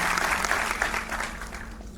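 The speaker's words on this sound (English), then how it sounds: "so please give him a round of applause" Applause from an audience welcoming a new school principal at a Lokmanya Tilak memorial function, a dense, steady burst of many hands clapping close by that tapers slightly toward the end.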